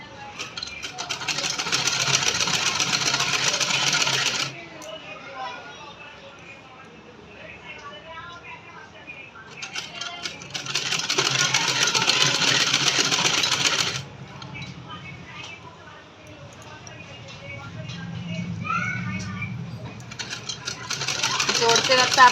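A sewing machine stitches a belt onto a salwar in two or three bursts of fast, buzzing running, each several seconds long. Between the bursts, a person talks over quieter gaps.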